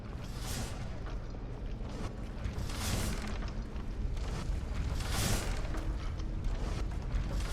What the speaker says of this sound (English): That's the sound of a trap.